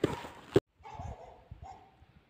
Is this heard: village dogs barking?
yes